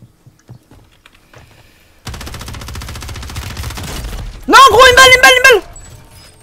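Rapid submachine gun fire in a video game, a sustained burst of close, loud shots lasting about two seconds after a quiet start, followed by a sharp tonal game effect.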